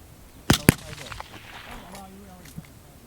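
A Palma rifle firing at a 500-yard target on a windy day: two sharp reports in quick succession, followed by quieter distant thumps and faint background voices.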